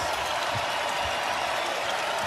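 Crowd at a women's college basketball game in an indoor arena, a dense sustained roar of cheering and applause filling the space at a constant loud level, with no clear talk.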